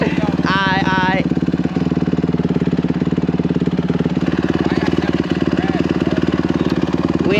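A dirt bike engine idles in neutral with a steady, close, rough mid-pitched rumble that runs through the whole stretch, while people talk over it.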